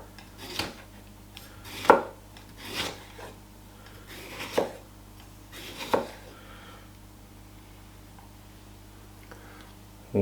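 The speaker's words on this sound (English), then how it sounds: "We'll use the big chef's knife first" A large Ninja Stay Sharp chef's knife slices through food in a few separate crisp cuts, spaced irregularly and close up against a quiet background.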